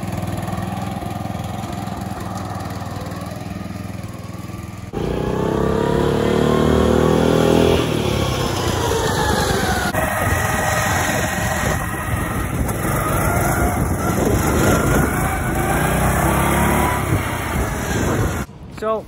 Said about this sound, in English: you may wonder how we get away with all this driving the Gilson on the roads and stuff